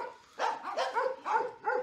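A dog at the Ciapek animal shelter in Hajnówka barks close by, about five sharp barks in an uneven rhythm with short pauses, and no other sounds.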